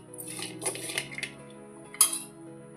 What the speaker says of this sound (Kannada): ನಾನು ಇವನ್ನ ಒಂದು ಡಬ್ಬಿಗೆ ಹಾಕ್ಕೊತೀನಿ.